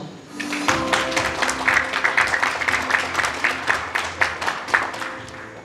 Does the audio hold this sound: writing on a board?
no